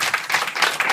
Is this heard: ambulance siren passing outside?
no